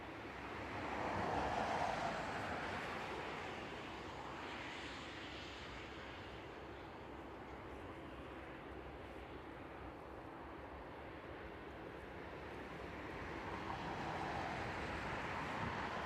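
A Boeing 747 cargo jet taxis to its stand at night at East Midlands Airport, its engines a broad, steady roar heard from a distance that swells slightly at the start and end, with no talking.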